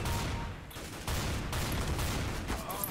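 Pistol gunfire in the video game CS:GO, dense overlapping shots and bursts with a booming low end, loud and sustained throughout.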